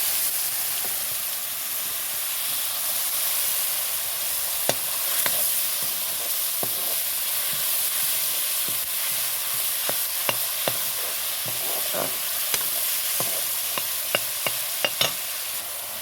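Ginger, garlic, mustard and chili frying in hot oil in a pan, a continuous close sizzle and hiss with scattered sharp clicks and taps of stirring, no voices.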